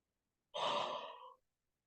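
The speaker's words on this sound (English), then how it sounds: "Another yawn." A single drawn-out yawn, breathy and soft with a slight voiced quality, rising quickly and fading after about a second, heard close up in an otherwise silent room.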